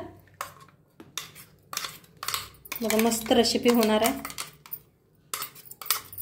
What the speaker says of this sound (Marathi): आता सगळं ह्याच्यात काढून घेऊया एका प्लेटात।